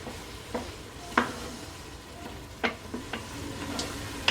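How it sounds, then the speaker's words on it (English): Hamburger meat browns with onions and garlic in a pan for American-style goulash, giving a quiet, steady sizzle broken by a few sharp scrapes and taps of a spatula. "we're gonna let this soften up, let the onions soften up, garlic get in there and play, and finish browning the hamburger"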